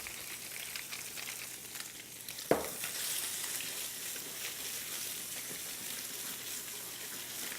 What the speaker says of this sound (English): That's the sound you want to hear right there. You want it a nice hot sear.